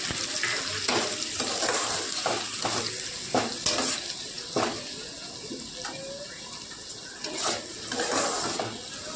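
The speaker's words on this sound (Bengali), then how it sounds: "এবার আমরা পেঁয়াজ বাটাটা দিয়ে দেবো। দিয়ে আবারও ভালো করে ভেজে নেব লাল লাল করে।" Onion paste sizzles steadily in hot oil for a steamed egg curry, with a spoon scraping and stirring the pan in irregular knocks and clinks close by; no one speaks.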